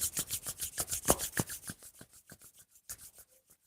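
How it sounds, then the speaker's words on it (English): Hands being rubbed together during a yoga eye exercise, close and dry, with quick rhythmic swishing strokes that start strong and then fade into softer, sparser rubs. "Rubbing the hands together."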